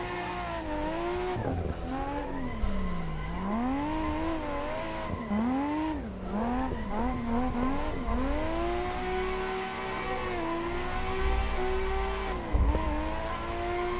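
Drifting cars in a video game scream through a continuous tire squeal whose pitch swoops up and down over a steady engine drone, with brief bumps and a couple of louder skids, loud and close throughout with no talking.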